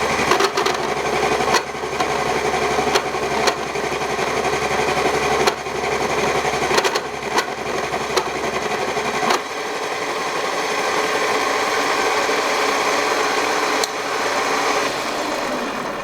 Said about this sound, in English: I think you could hear some chattering, but that is because of this is a tool for a CNC milling machine